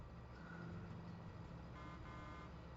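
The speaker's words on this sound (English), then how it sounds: "See, it sounds like a horn." A vehicle horn sounds in the Farming Simulator 22 video game. It gives a muffled tone over a steady engine rumble, with a brief honk near the end.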